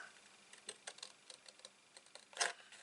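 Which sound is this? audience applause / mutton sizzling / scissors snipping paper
scissors snipping paper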